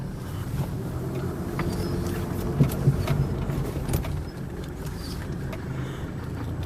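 A 1987 Mercedes-Benz 190D 2.5 Turbo diesel car drives slowly toward a driveway, its engine and road rumble a steady low drone with wind buffeting on the microphone and a couple of small bumps.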